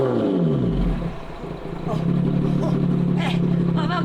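Lotus Evora GT410 Sport engine roaring loudly and steadily with a throttle blip and rising rev, close and continuous, with brief voice bits over it.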